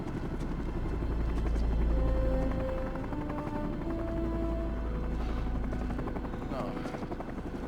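Helicopter rotor drone in the 2004 film Dawn of the Dead, a steady loud whirring that swells and then holds, mixed with a film score and under people talking.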